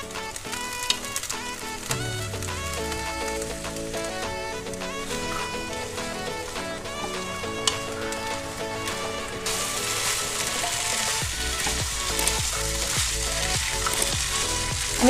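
Chickpeas fry in a pan of spices for a dhuska meal, giving a continuous close hiss and sizzle that grows denser midway, with steady tonal ringing layered over it throughout.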